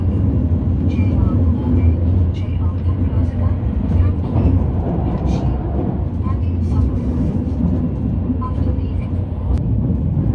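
A train on the Umeda freight line in Osaka, heading toward Shin-Osaka, makes a loud, steady rolling rumble with faint rattles that continues unbroken throughout.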